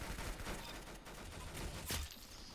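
Rapid bursts of gunfire from the Roblox game Arsenal crackle continuously at low volume, with a sharper shot near the end and no talking.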